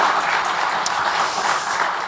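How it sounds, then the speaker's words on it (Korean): Applause from a church congregation at a special early-morning prayer service, a dense, steady clatter of many hands clapping together, filling the whole span at an even level. "박수 한번 좀."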